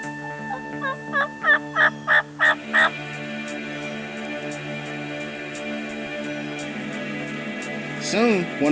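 Wild turkey toms gobble outdoors in a rapid, rattling series of about six pulses, loud and fairly near, followed by a quieter stretch and then a brief rising call near the end.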